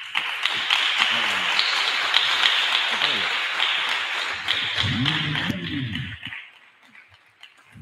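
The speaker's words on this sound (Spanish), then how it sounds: "les pido que recibamos con un fuerte aplauso a Suso para que coja fuerza para empezar" A lecture audience at a comic talk in an art school in Santa Cruz breaks into sustained, dense applause welcoming a speaker, loud and even for several seconds before fading, with a voice briefly heard near the end.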